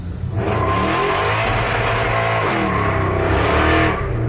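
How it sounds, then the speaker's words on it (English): A 1967 Pontiac Firebird engine revs hard against its rev limiter, loud and close, with a sustained throaty roar that wavers and stutters as the limiter cuts in, then drops off near the end. "On the rev limiter."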